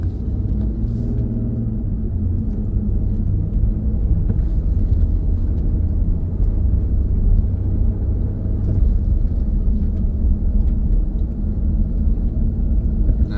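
2023 Nissan Frontier on Mickey Thompson Baja Boss tires pulling away from a stop in snow, a steady loud engine and road rumble heard from inside the truck, no talking.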